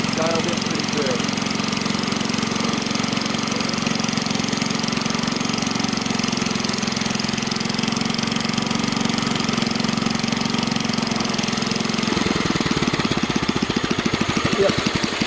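A Kohler K141 engine runs at low idle with the PTO engaged for load, a loud continuous mid-pitched drone close by, with a rougher, stronger pulsing in the last few seconds; someone talks over it.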